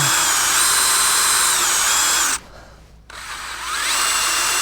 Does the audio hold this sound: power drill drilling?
yes